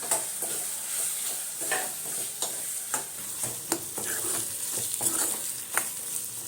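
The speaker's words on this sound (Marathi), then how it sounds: "तेलामध्ये आता टाकते बटाटे" Potatoes sizzling in hot oil as they are stirred in a pan, steady frying hiss broken by repeated scraping and stirring clanks, close and continuous with no talk.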